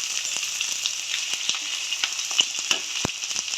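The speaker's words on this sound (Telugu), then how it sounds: "ఇలా లైట్గా ఫ్రై అయిన తర్వాత మనం కట్ చేసి పెట్టుకున్న కాలీఫ్లవర్ వేసుకోవాలండి. లైట్గా సాటే చేసి కలుపుకుంటూ ఉండాలి." Cut cauliflower lightly frying and sautéing in a hot pan: a steady, bright sizzle with faint crackles and occasional soft stirring taps, close and continuous.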